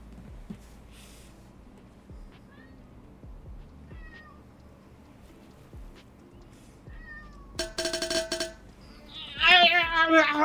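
A cat meows a few times in a room with short rising calls scattered through, then louder yowling near the end alongside clinking and a burst of noise; people talk quietly in the background.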